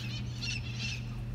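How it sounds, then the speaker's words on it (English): Wild parrots call outdoors in California, a few squawking bursts at middle distance over a steady low hum, with no one speaking. "Here's those parrots."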